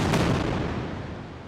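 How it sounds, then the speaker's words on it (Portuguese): A barrage of rockets fired by Hamas toward an Israeli city, with Israel's missile defense system firing interceptors: a loud booming blast that settles into a dense, rumbling roar and slowly fades, with no voices. "moradores gravaram uma chuva de mísseis e o sistema de defesa de Israel em ação"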